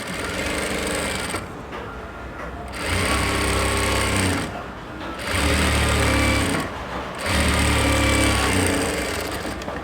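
Three loud, close runs of a sewing machine stitch a lehenga ruffle, each burst separated by brief pauses.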